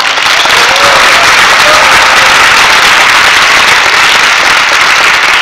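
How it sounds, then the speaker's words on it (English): A large audience applauds event staff and volunteers, a loud, dense, continuous roar of clapping that fills the whole stretch without a break. "Let's give them a round of applause."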